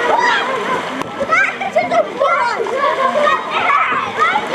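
Children splash and jump from a pier into a river at a summer camp, loud close water splashes mixed with lively overlapping kids' voices and shouts.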